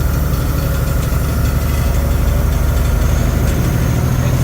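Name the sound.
1999 Freightliner truck diesel engine idling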